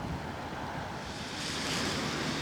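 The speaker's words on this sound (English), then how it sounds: "The rain is pouring down here in Blackpool." Heavy rain pours down in Blackpool on the last day of 2023, a dense, loud, continuous hiss that swells slightly toward the end, with no voices.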